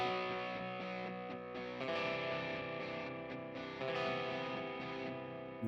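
A heavily distorted, effects-laden musical beat plays continuously, with gritty sustained tones and a couple of shifts in intensity.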